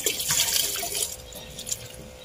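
Water splashes and trickles into a garden fish pond stocked with koi and tetras, a steady bright pouring wash that fades slightly toward the end, close by with no talk over it.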